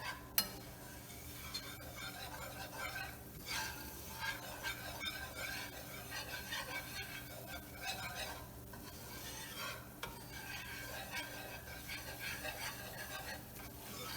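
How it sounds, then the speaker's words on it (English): Butter and flour roux for béchamel sauce whisked around a pan, a faint continuous scraping and light sizzle with scattered soft clicks of the whisk, steady throughout under a low hum, with no voices. "you're going to whisk it around in there to integrate the butter and the flour."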